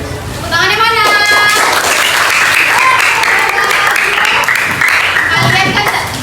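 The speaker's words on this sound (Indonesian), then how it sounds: "Tepuk tangannya mana?" Loud classroom applause from students, children's voices mixed in, continuous clapping filling most of the stretch after a brief spoken lead-in, with chatter rising again near the end.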